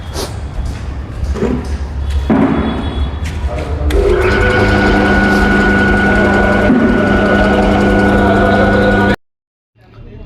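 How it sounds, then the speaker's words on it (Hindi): An electric compressor switched on for a CNG car cylinder pressure test, a loud steady droning hum with tonal whine that builds, then cuts off abruptly near the end. "ये कंप्रेसर ऑन कर दिया हमने"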